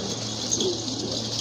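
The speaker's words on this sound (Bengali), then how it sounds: "এই যে দেখেন তারপরে ডাকার চেষ্টা করতেছে হাতের কবুতরটা" A single pigeon held in the hand gives a soft, low coo, close by over a steady background hum.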